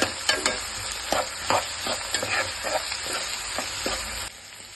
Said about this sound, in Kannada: ಬಟಾಣಿ ಹಾಕ್ತಾ ಇದ್ದೀನಿ.